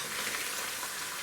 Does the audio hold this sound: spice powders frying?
yes